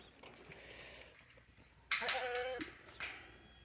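A small, friendly farm goat bleats twice at close range, a wavering cry followed by a shorter one, over faint barnyard background noise.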